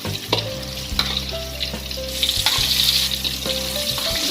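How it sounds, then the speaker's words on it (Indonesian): Battered gourami fish deep-frying in hot oil, a dense steady sizzle and crackle close by, with a few clinks and stirring sounds and no talking. "Seperti ini, nanti kan lalu goreng sampai kuning keemasan."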